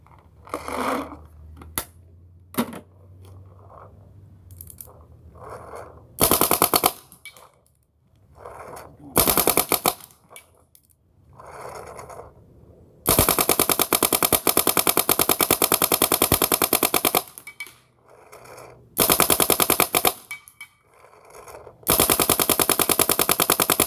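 Bob Long VIS paintball marker with a .685 CP 16-inch one-piece barrel, firing rapid loud bursts of sharp popping shots, some long continuous strings, separated by quieter gaps with faint handling noise.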